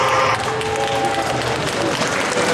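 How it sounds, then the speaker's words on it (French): An audience at a cosplay contest applauds for a performer, a steady wash of clapping from a crowd with a voice mixed in over it. "de chaleureux applaudissements pour l'artiste Serena"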